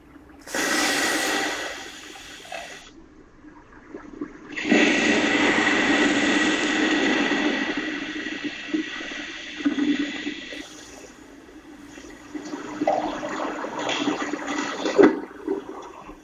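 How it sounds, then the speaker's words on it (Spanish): Hot cooking oil hits water during an industrial kitchen fire demonstration. A brief burst is followed by a sudden, loud roaring whoosh of flare-up that sustains for several seconds, then fades into uneven rushing noise. "ya veréis la reacción del aceite al contacto con el agua"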